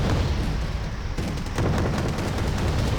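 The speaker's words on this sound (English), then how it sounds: "Fresh rocket strike. Or Buratino strike from Faust, completely crippling that town" Buratino TOS-1 thermobaric rocket strike pounding a town in Wargame: Red Dragon, a dense, continuous rumble of blasts and booming impacts that stays loud for the whole stretch with no break.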